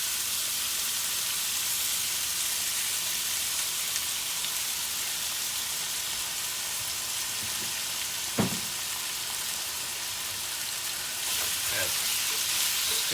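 Garlic and herb marinated chicken breast bites fry in oil in a hot pan over medium-high heat, with a dense, steady sizzle like rain and a single brief knock of stirring near the end.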